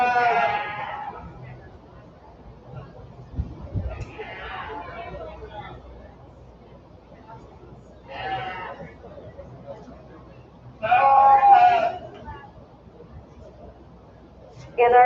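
Sheep bleat at a youth sheep showmanship show. Several loud bleats come at irregular moments, under an announcer's steady talk over a quiet arena background.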